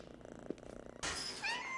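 A kitten purrs in soft rhythmic pulses for about a second, then a brighter burst of sound with faint high chirps takes over near the end.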